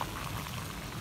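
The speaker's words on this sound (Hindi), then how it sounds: "बारिश बड़ी है" Heavy rain falling in a village, a dense steady wash of drops and pouring water, close and continuous for a moment.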